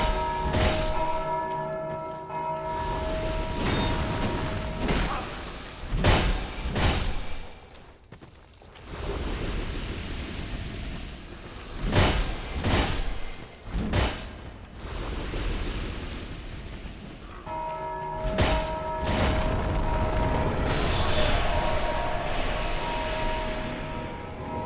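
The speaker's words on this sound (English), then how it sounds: "this guy is just chilling here, ringing the bell flat out" An enemy in the Dark Souls 2 video game ringing a bell: repeated loud metallic clangs with ringing tones that hang in the air, struck irregularly over a dense rumbling background of thuds and crashes.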